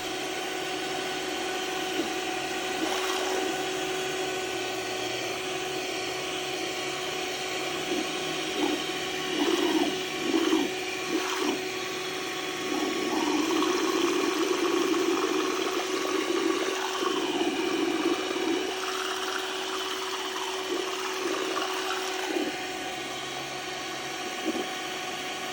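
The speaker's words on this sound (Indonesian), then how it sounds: "Kendalanya menggunakan mixer kecil ini atau hand mixer ini" A small electric hand mixer whirs steadily for a long stretch while mixing ice pack gel, a constant motor drone with uneven sloshing, churning surges in the middle.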